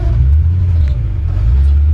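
A 1964 Chevrolet C-10 Fleetside pickup drives and accelerates, its engine a loud, steady low rumble from inside the cab with no talking.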